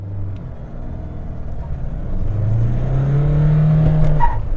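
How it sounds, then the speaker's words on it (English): A Mahindra Scorpio Classic engine idles with a low rumble, then revs up into a rising, sustained drone that swells louder and holds before easing, heard close with no talking. "revving the motor."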